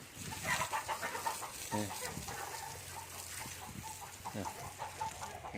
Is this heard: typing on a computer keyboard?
no